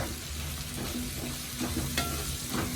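Chopped green chillies fry with ginger in a hot pan, a loud, steady sizzle with faint stirring scrapes throughout and no talking.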